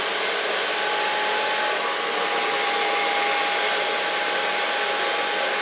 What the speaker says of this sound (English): I will blow dry it with a medium brush